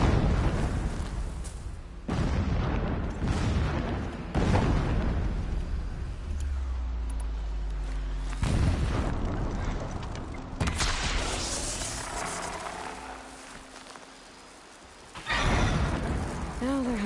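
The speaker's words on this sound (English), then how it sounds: "Explosions in the distance." Distant explosions and booming bursts in a video game battle, repeating at irregular intervals over several seconds with game music and effects underneath, moderately loud throughout.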